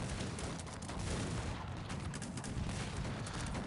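Cannon fire rolls through a Cossacks 3 battle with Netherlands forces, heard as a dense, continuous barrage of overlapping booms and crackling shots, fairly faint throughout.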